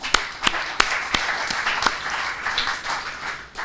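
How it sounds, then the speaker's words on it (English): Scattered audience clapping at an evening forum event, a thin, uneven patter with a few sharper isolated claps standing out, no voices over it. "Give yourselves a round of applause."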